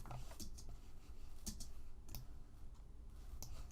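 Quiet, close keystrokes tap on a computer keyboard in short irregular bursts, a few crisp clicks spaced across a faint background hum.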